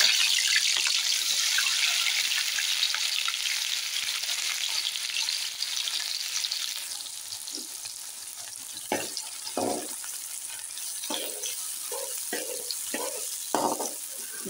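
Sliced onions soften in hot ghee in a pan, a steady broadband sizzle running throughout, loudest early on, with occasional stirring scrapes and clinks breaking in near the end.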